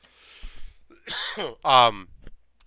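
A single throaty cough, close and fairly loud, with a short clearing of the throat just before it.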